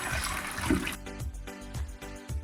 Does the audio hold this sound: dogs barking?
no